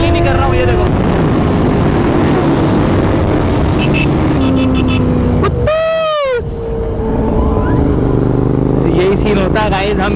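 A 2024 Continental GT 650 and a 2022 CBR 650R pull hard in a drag race, engines roaring close and loud, pitch climbing through the revs with a sharp gear shift midway and wind rush behind.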